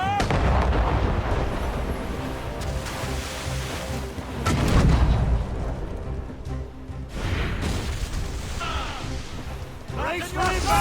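Naval cannons boom repeatedly during a sea battle in Assassin's Creed Rogue, heavy blasts rolling over crashing waves and shouted voices throughout.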